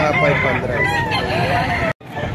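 A rooster crows loudly and close by among clucking chickens at a poultry sale. The crow is one sustained call that ends in a sudden cutoff, over crowd noise and voices.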